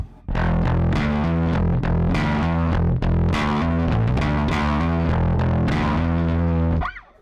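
Bass guitar run through a Scrambler bass overdrive with the blend fully on the distorted signal, giving a raspy, buzzy tone; several sustained notes and chords played loud and close, ringing out alone before stopping.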